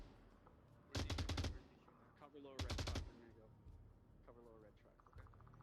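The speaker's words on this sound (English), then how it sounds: "Yeah, M249, get that suppressive fire, allow his team to push up" Two loud bursts of rapid automatic fire from an M249 machine gun in the VR shooter Onward, each lasting about half a second, with fainter distant shots and voices talking between them.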